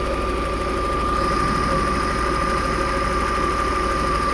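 A Volvo 960 Royal 3.0 24-valve engine idling right after starting, a loud, smooth and even drone with a steady hum and no gaps.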